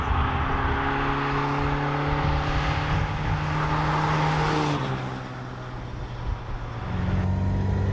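A small sporty car's engine pulls steadily with a rising, sustained drone, then the pitch drops briefly when shifting up to fourth gear before climbing again; revs held near 3,000.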